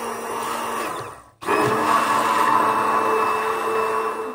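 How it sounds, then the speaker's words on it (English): An immersion blender whirs steadily in a bigger container of egg-based mayonnaise mix, cutting out briefly for a moment before restarting and running on loud and close. "So I have my immersion blender here. I'm gonna set this down in here and get it going."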